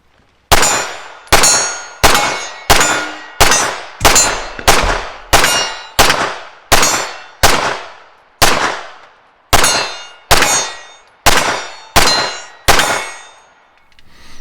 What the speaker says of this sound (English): There's nothing like making steel ring out at the gravel pit.